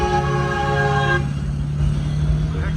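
A distant train horn gives a long, steady blast with a rich, droning tone for about a second, then a low rumble continues underneath as it fades.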